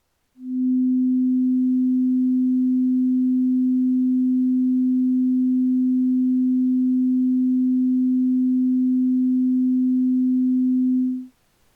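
A single low hummed note is held steady and unbroken for about eleven seconds, even in loudness from start to finish and alone with no other sound.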